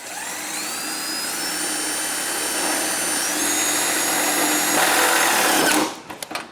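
A power driver whines at high speed while sending self-tapping screws into a pole barn garage, loud and continuous for several seconds and climbing in pitch, then cutting off into a few short clacks.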